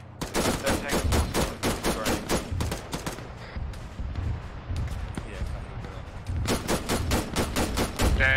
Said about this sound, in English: Okay, I'm shooting on a different tank.